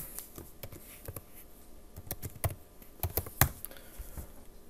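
Someone typing a folder name on a computer keyboard, a series of irregular close clicks and taps, some grouped quickly and others spaced apart, with no talking.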